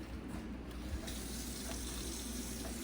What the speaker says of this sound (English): I'm going to go over here and wash my hands.